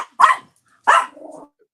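A puppy gives two short, sharp barks a moment apart, the second trailing into a brief whiny growl, close and loud against silence.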